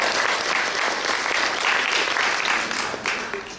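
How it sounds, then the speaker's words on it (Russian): Applause from an audience for a woman on stage at a live event, a dense steady clapping that fills the whole stretch and thins slightly at the end. "Аплодисменты вот этой женщине."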